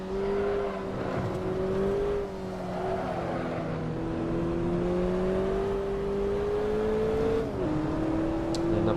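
Mazda MX5 Miata engine in Assetto Corsa on a race track, a steady droning tone that shifts pitch as the car downshifts and revs, with tire and wind noise underneath.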